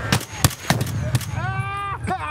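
Gunfire from a shotgun fight in the Escape from Tarkov shooter game, set in the Customs area: several sharp separate shots spaced irregularly, with other game effects and a rising tonal sound near the end, no clear talking.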